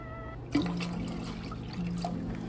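Water pours steadily into a container of vinegar for a jalapeño pickling brine, a close, continuous trickle after a small clink, with a faint background hum throughout.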